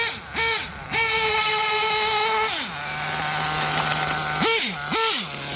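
A Hobao Hyper 7 RC car with a .28 nitro engine screams through throttle blips, then drops back to a steady, buzzing idle before two more sharp revs rise and fall.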